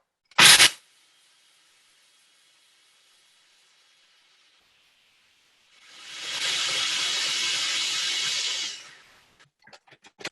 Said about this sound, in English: So crackers are going to go in to our food processor. I'm gonna pulse it up.